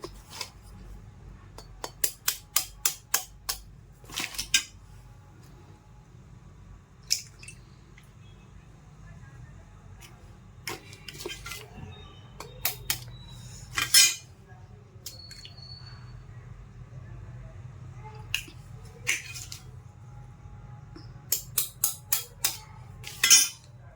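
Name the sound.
cracking three eggs into a bowl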